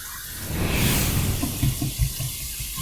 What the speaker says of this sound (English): We're going to go ahead and do our final rinse routine, a cold water rinse.